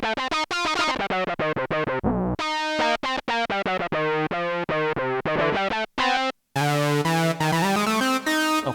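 IK Multimedia Syntronik synth lead patch with poly modulation plays a fast, bright, buzzy melodic line of rapid staccato notes with a few brief gaps, loud and up front with no talking.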